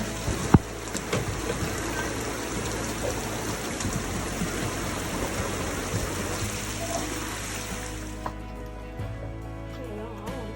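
Pouring rain falls on a boat near Anchorage, a dense, steady patter and splash that continues throughout and thins slightly toward the end.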